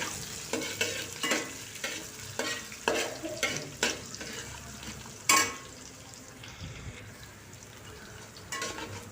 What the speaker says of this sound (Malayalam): എണ്ണയിൽ കിടന്നൊന്ന് ഫ്രൈ ആവട്ടെ ഇതൊരു മീഡിയം ഫ്ലെയിമിൽ തന്നെ വെച്ചാൽ മതിയാവും ഒന്ന് ഇളക്കി കൊടുത്താൽ മതി